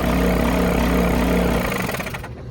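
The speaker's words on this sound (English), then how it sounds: "It should sound like air blowing and a motor running, and not any sort of loud metal clacking." Hegner scroll saw at test start, its motor and dust blower running with a loud steady whirring drone for about two seconds, then winding down as it shuts off.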